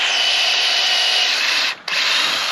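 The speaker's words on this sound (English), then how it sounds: "So we've got our trusty Ryobi drill going." A Ryobi drill fitted with a 5/16 bit bores into a maple tree for tapping, giving a loud, steady whirring grind that cuts out briefly near the end before resuming.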